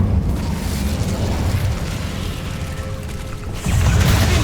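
An Incendio fire spell in Hogwarts Legacy: a loud, continuous roaring whoosh of flame with crackling bursts that holds steady and close, then surges louder and deeper near the end.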